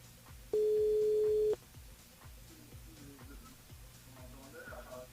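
A phone line sounds a single steady tone for about a second while a caller is dialed during a radio show, heard over a faint rhythmic background bed, with quiet talk around it.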